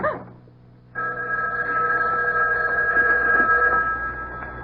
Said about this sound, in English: It was the house phone.